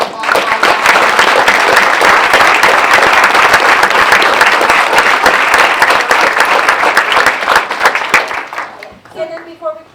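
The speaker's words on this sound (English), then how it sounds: "can we also have a round of applause?" Audience applause at a school board meeting, loud sustained clapping from a crowd lasting most of the clip before tapering off, with a few voices and a brief tone near the end.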